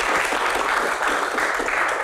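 An audience at a Q&A event breaks into loud, close applause, a thick continuous roar of many hands clapping that fills the whole moment without pause.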